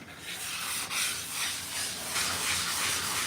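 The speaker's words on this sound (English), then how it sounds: "We call this a sponge sander." A sponge sander is rubbed by hand along painted trim, a close, continuous scratchy rasp with gentle rhythmic back-and-forth strokes and no talking.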